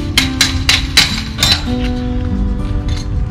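Sharp metallic taps of a hammer on a chain link gate latch ring out in a quick, uneven series of about six strikes, close by, over a steady low hum.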